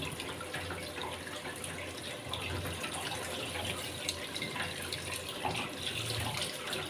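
Water runs steadily from a tap, a continuous close splashing hiss with no talking.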